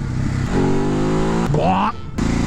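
A 2019 Ducati 950 Hypermotard engine, heard close and loud over a steady running rumble, with rising revs on the throttle and a sharp blip in pitch.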